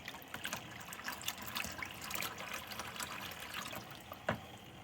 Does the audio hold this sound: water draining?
yes